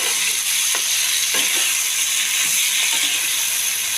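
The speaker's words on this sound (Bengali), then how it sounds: "এখন বড়াগুলো ভাজা হয়ে যাবে" Lentil fritters frying in oil produce a loud, constant bright sizzle with faint bubbling pops, heard up close and without any talking.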